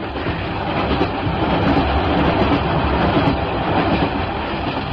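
A steady, loud rumbling of a train rolling along the rails, with a continuous rattle and faint rhythmic clacking throughout.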